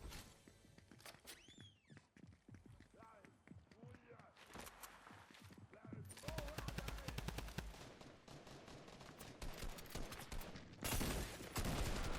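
Fortnite gameplay gunfire rattles in rapid automatic bursts and single shots throughout, dense and punchy, mixed with game effects and footsteps, with someone talking over parts of it.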